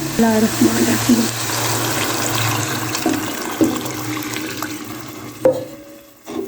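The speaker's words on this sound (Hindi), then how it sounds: "तो अभी मैं इसमें यखनी डाल देती हूँ जो मैंने तैयार की हुई है।" Yakhni stock pours and splashes into a pot for matar pulao, steady for several seconds before trailing off, with a voice speaking over the start.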